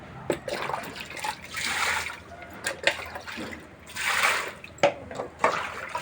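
Running water splashing in bursts as fish are rubbed and washed for a Nellore-style fish curry, with intermittent gushes and short pauses close by.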